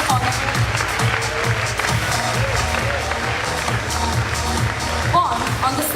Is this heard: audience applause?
yes